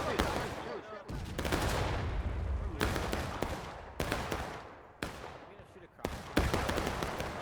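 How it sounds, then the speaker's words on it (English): Musket fire crackles in the War of Rights video game, a large Civil War battle with some 300 players, as repeated sharp volleys and scattered shots ring out close and far over a continuous battlefield din. "Can they get a shot off? They do."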